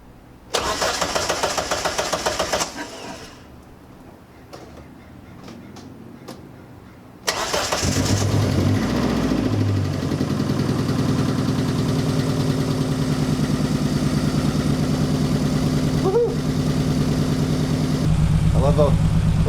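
A Dodge Neon rally car's engine cranks, sputters and then catches after sitting for years, settling into a loud, steady rough idle, with people talking over it.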